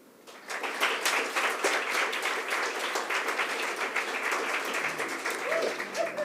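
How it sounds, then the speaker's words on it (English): An audience applauds during a debate vote on the green transition, with sustained, dense clapping from many hands that swells after a quiet start and holds steady, a few voices faintly mixed in toward the end. "If you think that, yes, the green transition is financially viable, please clap now"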